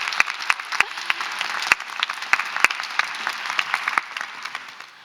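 An audience at a talk claps in a brief burst of applause, with scattered sharp individual claps standing out over the dense patter before it tapers off.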